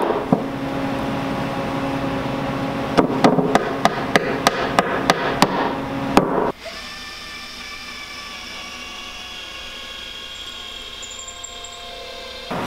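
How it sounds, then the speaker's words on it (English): Sharp metallic snaps of a bolt cutter cutting pieces, about eight quick clicks in a row followed by a steady mechanical hum, close and crisp. "I just used a bolt cutter to cut the pieces"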